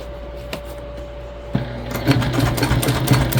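Near and clear, a sewing machine stitches the sides of a fabric date-night bag in short rapid bursts after a quiet hum, growing steadier and louder toward the end.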